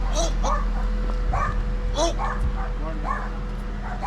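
A dog gives short yips and whimpering barks in a residential street, several brief calls over a few seconds, heard under people talking and steady background noise.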